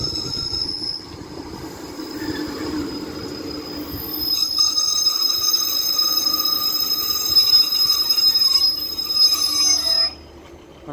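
A Northern diesel multiple unit, a Class 156 and 150 pair, pulls into Castleton station with high, sustained wheel squeal ringing over a low rumble, loud and close, cutting off abruptly near the end.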